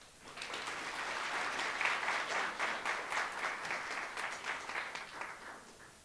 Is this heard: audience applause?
yes